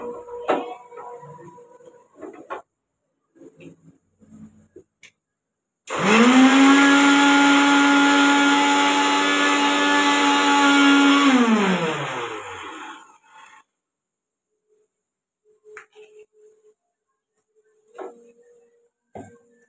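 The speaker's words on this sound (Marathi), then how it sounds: "हे जरा मिक्सरला बारीक करूया." An electric mixer grinder whirs loudly for about seven seconds, grinding green chillies, crushed peanuts, salt and sugar, with a steady high motor whine that starts abruptly and winds down, preceded and followed by quiet clinks and handling sounds.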